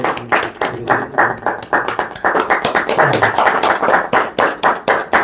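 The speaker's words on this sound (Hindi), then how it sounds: "तालियां बजाएं। Clapping clapping." An audience claps at a trophy unveiling ceremony for the Gilgit Baltistan Super League season 15 in Kuwait: steady, fairly rhythmic hand claps close by, many hands striking in loose unison for several seconds.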